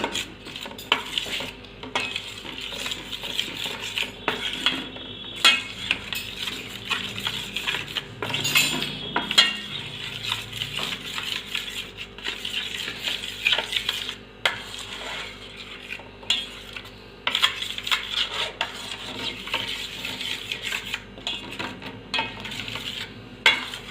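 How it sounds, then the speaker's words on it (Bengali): A spoon beats a fish and yogurt mixture in a bowl, giving rapid repeated scraping, clinking and stirring sounds close up, steady and continuous with occasional louder knocks against the bowl's side. "এবার আমি এটা একসঙ্গে ভালো করে ফাটিয়ে নেব।"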